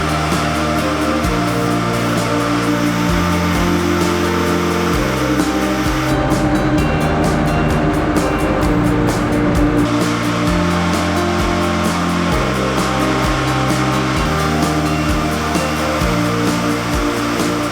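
Simplex roving machines run together in a cotton spinning mill, adding a gentle twist to sliver, making a loud, steady mechanical drone with a continuous broadband hum and shifting low tones throughout.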